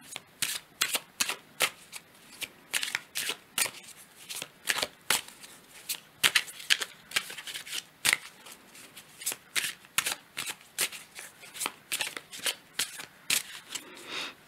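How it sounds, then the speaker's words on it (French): A deck of oracle cards is shuffled by hand during a reading, with quick, crisp riffling flutters repeating in an uneven rhythm, close and fairly quiet. "je vais tirer encore une carte de l'oracle bleu"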